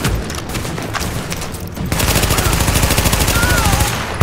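Rapid automatic gunfire and bursts of shots from the video game Tom Clancy's The Division, loud and continuous, with a dense rattling stretch in the second half.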